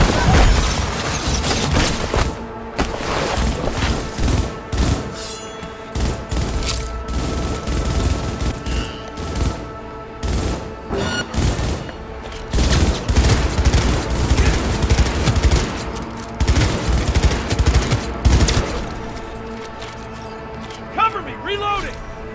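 Dense bursts of automatic gunfire and heavy booms from the video game Cyberpunk 2077, loud and nearly continuous with brief gaps, while voices speak over the shooting.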